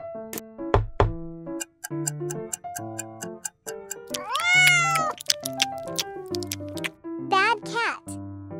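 A cat meows several times in a cartoon scene, rising and falling cries interleaved with bouncy musical tones and sharp knocks, all loud and up close.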